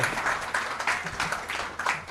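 Audience applause for Honorable Minister Shri Vaishnav at a panel event on AI-powered chips and workforce skills, a steady wash of many hands clapping throughout, fairly loud and close, with no talk over it.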